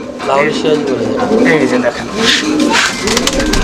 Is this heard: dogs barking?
no